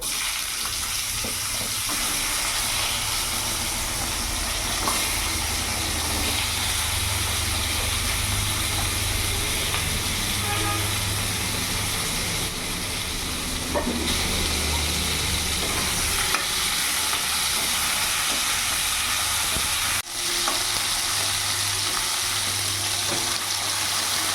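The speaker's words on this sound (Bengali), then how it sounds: "এবার সব কিছু সবজিগুলো একটু ভাজা ভাজা করবো।" Cut vegetables for Bengali shukto fry in a pan with oil after a tempering of dried red chillies and five-spice, giving a steady, close sizzle with stirring scrapes throughout and no talk.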